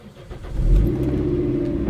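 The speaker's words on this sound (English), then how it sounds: "and then start the car up" A Toyota MR2 Roadster engine turns over and catches with a low surge, then settles into a steady, close idle rumble with no one speaking.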